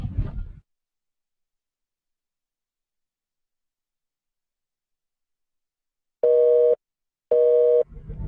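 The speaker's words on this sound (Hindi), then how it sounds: "फोन इंगेज आ रहा है।" Two loud, steady telephone busy-signal beeps sound in close succession after a long silence, with a brief burst of speech at the start and another at the end.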